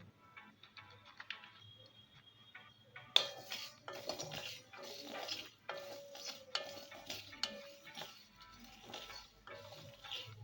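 Black pepper and cloves stirred with a spoon in a hot pan alongside fennel seeds give light, irregular metallic scrapes and clinks, quiet at first and then busier, with a soft frying crackle beneath.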